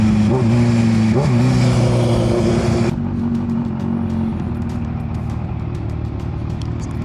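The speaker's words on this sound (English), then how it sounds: "How about some crispy downshifts?" A Kawasaki Ninja H2 motorcycle, 250 horsepower, downshifting: a loud, close engine drone with rising and falling pitch blips, then a sudden drop into a lower rumble with wind noise.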